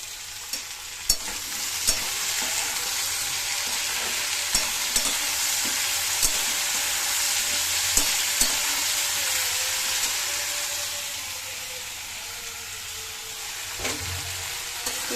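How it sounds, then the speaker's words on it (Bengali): Potatoes sizzle steadily in a hot pan on a home stove, with a constant frying hiss broken by sharp clicks and scrapes from stirring. The sound stays close and continuous, and nobody speaks. "লবণ দিয়ে আর একটু ভালো করে ভেজে নেব"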